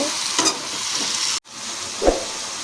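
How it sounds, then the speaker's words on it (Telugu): Tomatoes frying in oil in a pan for gongura chutney, stirred with a utensil: a steady close sizzle with scraping stir strokes around half a second and two seconds, and a brief cut near the middle. "ఈ విధంగా మొత్తం ఉడికించుకోవాలి మధ్య మధ్యన కలుపుకుంటూ ఉండాలి"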